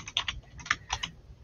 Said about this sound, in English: Deb, I think you're typing, perhaps?